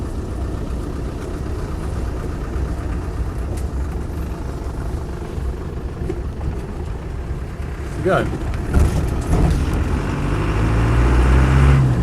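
A Land Rover 90 hardtop with a 200TDI diesel engine idles steadily with a low, rough rumble, then revs up louder toward the end, with a brief spoken remark over it.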